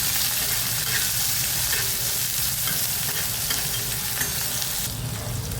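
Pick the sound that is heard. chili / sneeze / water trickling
chili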